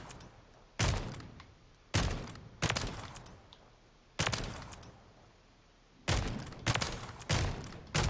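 Sniper rifle fire in a first-person shooter video game: about eight loud, sharp booming shots at irregular intervals, some in quick pairs, each with a decaying tail and no talking.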